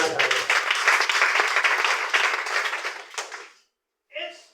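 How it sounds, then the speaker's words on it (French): A church congregation breaks into sustained, loud applause that fades out after about three seconds, followed by a short burst of voice. "Acclame Jésus."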